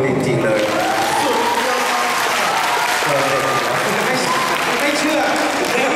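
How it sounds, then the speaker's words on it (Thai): Dense applause from a crowd at an Isuzu event in Chanthaburi fills the whole stretch, loud and steady, with a Thai emcee speaking over it. "ขอเสียงปรบมือจริงๆเลย"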